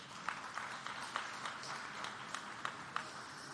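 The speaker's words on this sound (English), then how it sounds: "give them another round of applause." Faint, distant applause from an audience at a human rights celebration gala, a soft steady patter with a few sharper individual claps standing out at regular intervals.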